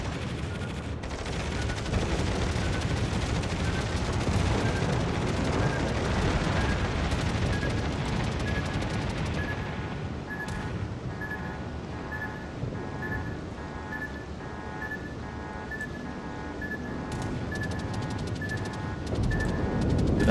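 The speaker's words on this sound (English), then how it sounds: "That gun still going off" Guns on the HuangHe, a Tier VI premium cruiser in World of Warships, fire amid a constant heavy rumble of battle, loud and sustained, with faint tonal alarm-like beeps joining later.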